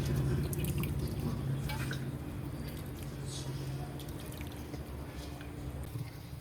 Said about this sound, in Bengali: এবার ঝটপট করে চালটাকে ধুয়ে নিই।